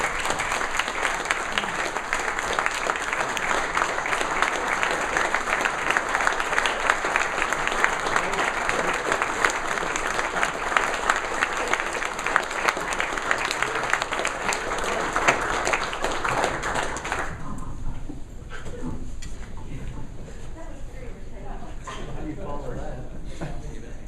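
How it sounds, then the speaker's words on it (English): Sustained audience applause at a hall of fame awards event, a loud continuous roar of many hands for about seventeen seconds before it thins to a lighter, scattered patter with some murmuring voices. "Dave Dvorak, let's give a round of applause."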